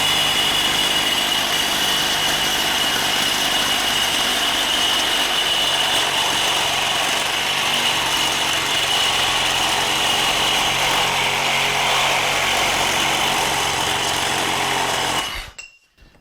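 A Dewalt cordless reciprocating saw cuts steadily through material with a loud, continuous buzzing whine that stops abruptly near the end.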